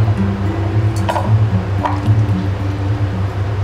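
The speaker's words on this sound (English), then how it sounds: "I am dipping all of these in water. So let it soak water" Tie-dyed fabric cushion covers and a table runner are pushed into a basin of water, close wet squishing and dripping with a few splashy bursts, no voices.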